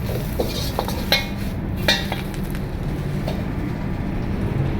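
Noodles with vegetables and prawns are stirred in a pan, giving soft scraping and scattered light metallic clinks over a low background hum, with no voices.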